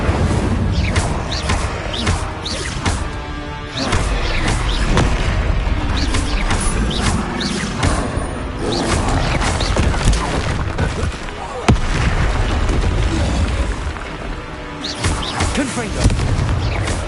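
Incendio fire spells cast again and again in Hogwarts Legacy, booming fiery bursts inside loud, dense game combat sound with someone talking over it.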